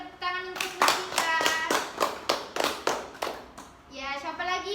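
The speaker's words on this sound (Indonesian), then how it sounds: "beri tepuk tangan untuk Mustika" Classmates in a classroom during an Indonesian-language teaching practice session clap in a short burst of steady, rhythmic claps, with children's voices chattering over and after it.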